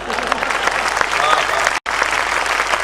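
An audience at a Hindi poetry recital by Hariom Pawar bursts into thick, loud, continuous applause from many hands. A split-second gap breaks it near the end before the clapping carries on.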